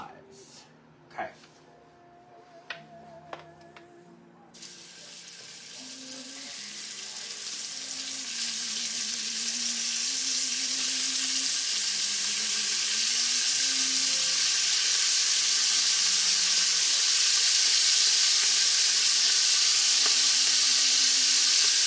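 Beef browns in bacon fat for beef bourguignon, a bright crackling sizzle that starts suddenly and swells into a steady loud hiss, with someone talking over it throughout.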